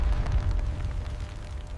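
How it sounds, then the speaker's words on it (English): A rumbling ripple of explosions destroys a ZSU anti-aircraft vehicle during an attack by AH-64 Apache helicopters on an armor column on a coast, a dense low boom that rolls steadily with no talking. "The ZSU vanished in a ripple of explosions."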